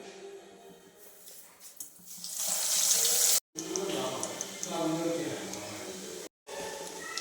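Hot oil sizzles with a loud, steady hiss as egg- and breadcrumb-coated potato cutlets go into the pan, while a person talks over the crackling.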